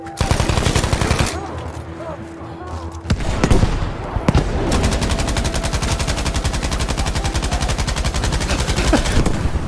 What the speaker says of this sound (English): How many bullets do I have to put into this man?